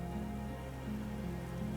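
Steady rain patters and hisses throughout a scene in the video game Disco Elysium, a soft, continuous wash of drops on surfaces with no voices.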